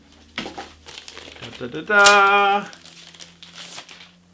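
Crinkling and ripping as tape is peeled off a packaged graded comic book case, a close, loud rustle mixed with a person humming and murmuring.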